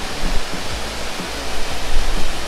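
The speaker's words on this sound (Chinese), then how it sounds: "这是上一层的瀑布。" A steady, dense roar of rushing water from Alberta Falls in Rocky Mountain National Park fills the clip with no pauses or voices.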